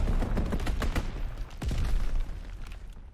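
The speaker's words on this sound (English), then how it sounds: "Enemy strafing run inbound." Gunfire from an enemy aircraft's strafing run tears through a Call of Duty WW2 Domination match: rapid bursts and sharp cracks with a couple of heavier booms, dense and close throughout.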